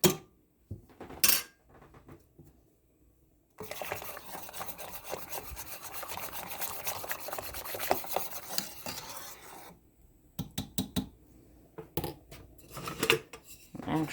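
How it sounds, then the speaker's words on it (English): A metal spoon rubs and scrapes against a pot while skimming foam off dandelion jelly, with a few sharp clinks at the start and a steady stretch of scraping in the middle, then more intermittent clicks near the end. "You can just take a spoon and skim this off of the top before you start ladling them into the jars."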